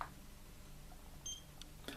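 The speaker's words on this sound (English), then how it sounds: "single beep" A single short electronic beep from a Xiaomi Mijia Seabird action camera as the shutter is pressed to take a still, thin and faint over low background hiss, followed by a soft click.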